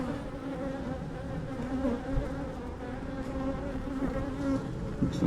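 Honey bees swarm over open hive frames with drawn comb and nectar, a steady close buzzing drone with occasional louder passes of individual bees.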